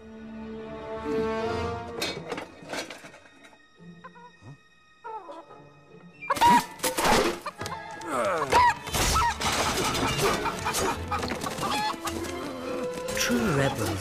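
Chickens clucking and squawking in the video game Fable 3, with a shattering crash and busy game effects building into a loud, cluttered stretch; a voice speaks intermittently.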